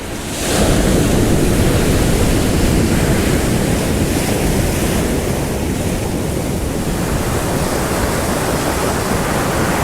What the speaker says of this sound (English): These waves can escalate big time and they can smash.